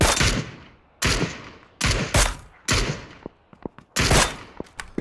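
Gunfire in PlayerUnknown's Battlegrounds: several loud bursts of rapid shots echo out at irregular intervals, with sharp single cracks in between, heard alone without talk.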